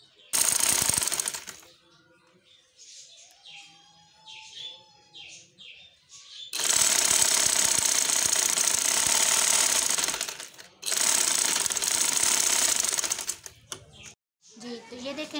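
A sewing machine stitches fabric for a twist turban hijab cap, running loud and close in long continuous bursts with brief pauses between. Some quieter handling sounds and a voice come before the stitching.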